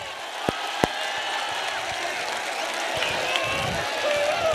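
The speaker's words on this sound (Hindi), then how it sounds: "जोरदार तालियों के बीच" Crowd at a large public political rally in Akola, Maharashtra, applauding and cheering for a speaker, a distant, diffuse roar of clapping and voices with a couple of sharp nearby claps standing out early.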